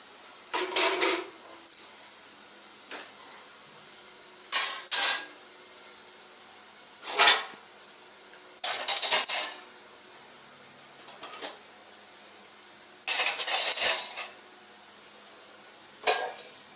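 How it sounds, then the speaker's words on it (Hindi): Metal cooking pots and utensils clatter and clank in a village kitchen as they are set out and covered with lids, in short separate bursts with quiet gaps between them. "बर्तन लगा लेते हैं फटाफट से, और ढक देते हैं"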